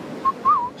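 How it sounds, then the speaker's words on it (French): Short whistled notes during a pétanque final, two brief clear tones, the second sliding up and down, heard close over a murmur of crowd noise. "En sifflotant."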